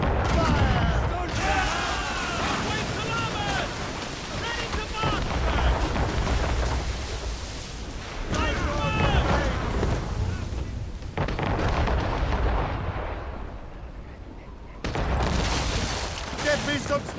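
Naval cannon fire in Assassin's Creed Rogue, with heavy booms and rumbling volleys amid wind, creaking and battle noise, loud and continuous across the sequence, with voices shouting orders over it.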